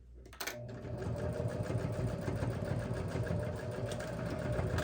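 A sewing machine stitches steadily along the seam of a Sew Together bag, a close, continuous mechanical whir with rapid needle chatter that starts after a brief quiet moment.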